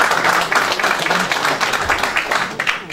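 Audience applause fills the room at an election campaign office opening ceremony as a lawmaker is welcomed to the stage, a dense, steady patter of many hands lasting the whole stretch.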